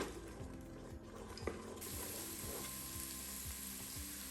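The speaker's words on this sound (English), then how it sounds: "Just keep that stirring on a medium heat" Chopped onion sizzles softly in a pot over medium heat while a utensil stirs it in regular scraping strokes, quiet and close, with a brief clink partway through.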